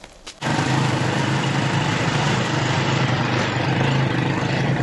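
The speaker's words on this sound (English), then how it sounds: "Okay, a farmer's motorcycle?" A custom-built farm motorcycle in a rural Sumatran village starts up and runs with a steady, buzzy, high-revving drone, close and loud after a brief quiet moment.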